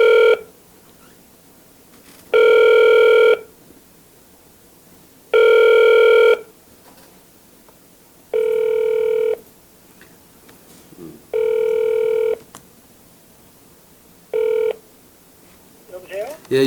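A telephone ring-back tone sounds in regular repeating bursts, five long beeps separated by quiet gaps, loud and clear, with a few faint keypress-like tones near the end and brief murmurs between.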